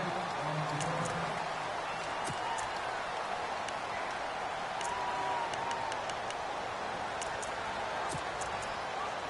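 Steady stadium crowd roar fills a PS4 American football game between the Cincinnati Bengals and the Houston Texans, a dense, continuous wash of cheering with scattered sharper accents throughout.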